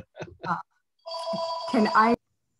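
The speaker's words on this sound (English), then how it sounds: "my phone is ringing" A phone rings with a bright electronic tone, starting steady then turning into a busier melodic trill, right after a couple of short spoken words.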